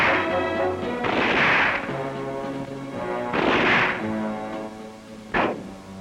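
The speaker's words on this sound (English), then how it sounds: "All newly commissioned judge advocates go through a basic training which includes a course in the firing of weapons." Weapons fire during Army basic marksmanship training for judge advocates: three separate sharp cracks spaced a couple of seconds apart, heard beneath steady background music.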